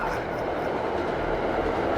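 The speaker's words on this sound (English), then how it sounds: "I laugh as the train passes by." A train passes by in a video game, a continuous loud rumbling roar with steady rolling noise throughout and no clear breaks.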